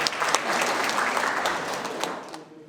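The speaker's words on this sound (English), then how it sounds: "A resounding round of applause" A crowd at a Philippine independence celebration applauds the Philippine Consul General with a dense, steady round of clapping that holds loud and even before tapering off at the end.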